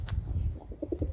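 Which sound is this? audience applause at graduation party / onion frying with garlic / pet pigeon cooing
pet pigeon cooing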